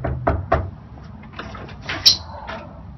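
A door is opened, with a few clunks and knocks followed by a latch click and a soft creaking slide, fairly close and brief.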